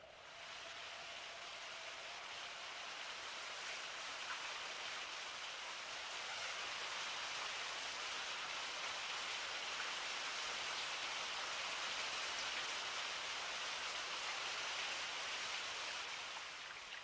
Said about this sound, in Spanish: en Petra llueve.